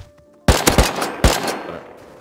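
Video game gunfire: a sudden burst of several sharp, loud shots in quick succession, a brief pause, then another cluster of rapid shots that trails off, with no talking.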